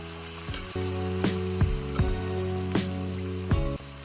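Boiled goat tripe pieces fry with curry leaves in a pan for boti pulusu, a steady loud sizzle with several sharp knocks and scrapes of a spoon stirring through it.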